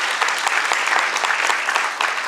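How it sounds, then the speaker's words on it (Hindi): Loud, dense applause from a theatre audience after a Hindi stage play performance, continuous clapping filling the whole moment with no speech over it. "जोरदार तालियां।"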